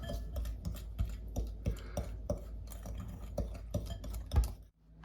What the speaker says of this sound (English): I'm gonna whisk with it 3 tablespoons of sugar